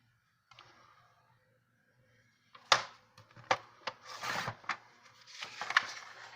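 Paper for a scrapbook cover being cut at 5.5 inches, heard as a quiet rustle followed by a run of sharp, close snips and scraping strokes, each separate and crisp, with no talk over them.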